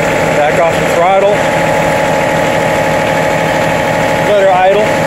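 A John Deere 3038E diesel tractor settles into a steady idle, a low, even rumble with a regular pulsing beat held for several seconds, briefly overlaid by a voice near the start and end.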